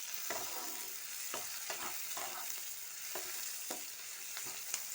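Onions fry in a pan with a little chopped tomato, giving a quiet, continuous sizzle punctuated by frequent spatula scrapes and knocks as the mixture is stirred.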